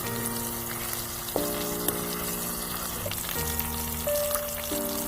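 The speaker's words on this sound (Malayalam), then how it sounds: "ഓരോ പീസ് ഇതുപോലെ നമുക്കിതാ മറിച്ചിട്ട് മറ്റേ സൈഡും വേവിച്ചെടുക്കാം" Pieces of choora (tuna) sizzle steadily in a frying pan while being turned over, a continuous soft hiss with occasional light taps and tonal background music running underneath.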